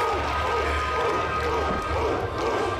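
A large sold-out arena crowd cheers steadily, a dense, sustained roar of many voices filling the space without a break.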